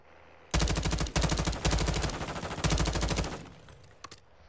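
Gunfire in Call of Duty Warzone: several loud, rapid automatic bursts close by, separated by brief pauses, then fading to quieter background.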